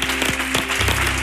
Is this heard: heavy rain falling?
no